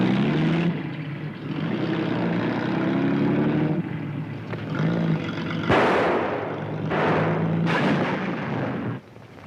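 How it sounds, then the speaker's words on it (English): A loud, droning propeller engine of a landing patrol plane roars steadily nearby, with rough, gusty bursts of noise surging in and out before it cuts off. "There's a patrol plane landing out here."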